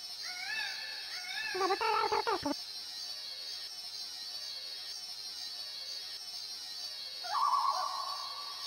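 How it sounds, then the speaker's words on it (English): A stock bird call from the video game Jet Force Gemini, with quick warbling chirps followed by a brief burst and a later short high note, heard faintly over a constant electronic game hum. "The amount of times I've heard that bird in games."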